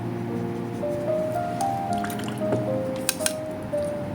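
Watercolor paint splashes and drips onto paper during an ink and watercolor urban sketch, giving soft wet spatters and a few sharp taps over background music, close and fairly quiet.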